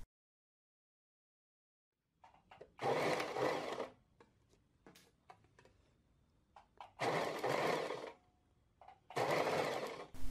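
A sewing machine stitches a pocket band on a garment, running in three loud bursts of a couple of seconds each, separated by quiet handling and small clicks, with no talking.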